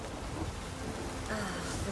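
Steady rain pours down in The Witcher 3 video game, a dense continuous hiss with low rumbling beneath, close and even throughout with no talking.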